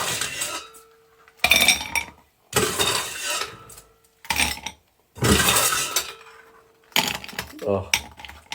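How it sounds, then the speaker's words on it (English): Ice clinks and clatters into a couple of drinking glasses for a raspberry drink, arriving in several loud bursts of rattling cubes with brief pauses between them, close up. "We're going to ice them up."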